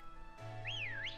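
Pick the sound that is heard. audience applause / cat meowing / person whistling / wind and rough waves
person whistling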